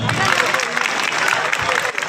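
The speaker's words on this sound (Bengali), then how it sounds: "মৃত্যুর জন্য সবাইটা হাততালি দাও" School students clap together in a dense burst of applause at a new-student welcome event, the clapping loud and continuous and mixed with crowd noise and voices.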